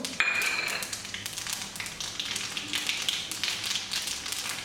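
Mustard, cumin and fennel seeds tempering in hot oil for a vegetable kurma give a steady, close crackling sizzle with scattered pops throughout, no voices.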